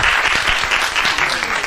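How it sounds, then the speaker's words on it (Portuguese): Audience applause breaks out at a lively group event, a dense, steady burst of many hands clapping at once that fills the whole moment at full strength. "Então tá uma salva de palmas."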